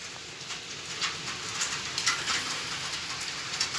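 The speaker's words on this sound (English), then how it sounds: "It's raining crazy guys." Heavy rain falling on a Stockholm street, a dense steady hiss of drops with scattered louder spatters and taps.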